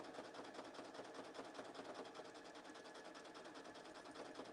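A sewing machine stitches through thick pleated fabric, running as a faint, fast, even mechanical chatter that holds steady throughout.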